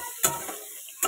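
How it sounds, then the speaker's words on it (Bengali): Bitter gourd fries in a pan with a soft, faint sizzle, broken by two sharp utensil clinks against the pan about a second apart. "তো করলাটা আগে ভালো মতো ভাজা হোক"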